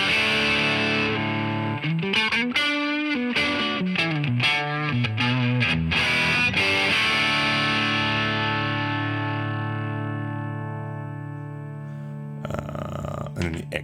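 Distortion mode on a Fender ToneMaster Pro guitar amp modeler, heavily overdriven electric guitar notes and chords played in quick bursts, then sustained ringing chords that slowly decay before a final strummed flourish.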